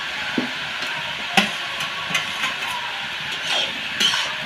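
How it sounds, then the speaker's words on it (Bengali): Slit green chillies and fried potatoes are stirred in a hot pan over a steady sizzle, with a spatula scraping and knocking against the metal in irregular taps. "এখন আমি দিয়ে দেবো চেরা কাঁচা লঙ্কা, দিয়ে তারপরে দিয়ে দেবো ভেজে রাখা আলুগুলো।"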